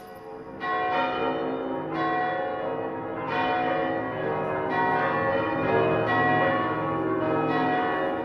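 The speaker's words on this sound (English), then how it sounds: "Bells ring throughout the South." Church bells ring out in a slow series of resonant strikes, each new peal layering over the lingering hum of the last, loud and reverberant with no voices.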